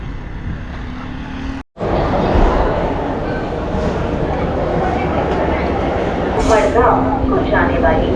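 A train sits at a railway station platform, with a steady, loud broadband rumble that breaks off for a moment and then resumes. Faint voices and brief tonal sounds rise near the end.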